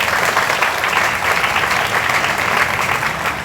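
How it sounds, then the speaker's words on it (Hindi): Audience clapping steadily to welcome a guest at a Kargil Vijay Diwas street play event, a dense, even round of applause lasting throughout at constant loudness. "इनका पहले आप स्वागत करिए तालियों से।"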